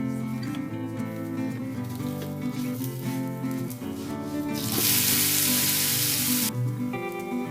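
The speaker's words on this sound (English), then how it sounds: "due to the vegetables, this dosa tends to be a bit thicker, so it's good if you just roast the other side as well" A thick vegetable mixed-flour dosa frying in a pan gives a burst of bright sizzling partway through, heard beneath steady background music.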